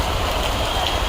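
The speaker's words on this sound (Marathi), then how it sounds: "हळूहळू करता पाऊस बघा किती जोराचा आला आहे" A sudden heavy downpour makes a dense, loud, unbroken hiss that stays steady across the whole moment, with no voices over it.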